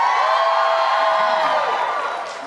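A convention panel audience at SPN Dallas 2019 cheers and whoops loudly, a dense sustained crowd roar that fades slightly toward the end.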